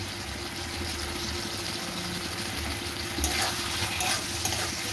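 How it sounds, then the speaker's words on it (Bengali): Chili soybean with soy sauce stirred in a pan, a steady frying sizzle with a busy texture, then a few louder scraping strokes toward the end. "একটু ভালো করে নেড়ে নেব।"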